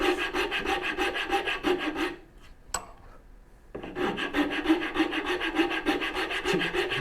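Rasp shaping wood for a turning bow saw, rhythmic rough scraping strokes up close, pausing briefly for a knock and a short gap before the steady rasping resumes.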